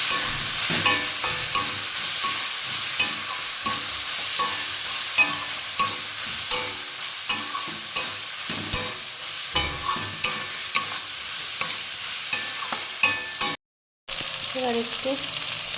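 Bottle gourd and shrimp sizzle and fry in a pan while being stirred, with steady frying hiss and regular scraping clacks of the spoon throughout, a brief silent gap near the end.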